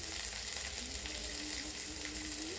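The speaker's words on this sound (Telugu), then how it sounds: "ఈ ఈ పచ్చిమిర్చి బాగా ఫ్రై అయిపోవాలి" Green chillies, cumin seeds and curry leaves fry in hot oil with a continuous, close, dense sizzle that holds steady throughout, with no voices.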